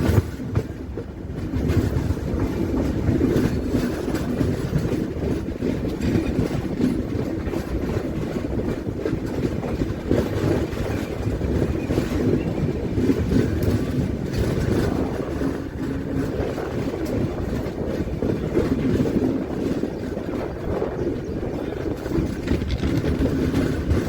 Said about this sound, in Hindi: नरपतगंज जनसाधारण एक्सप्रेस आती हुई सामने से क्रॉस करती हुई हमारी ट्रेन को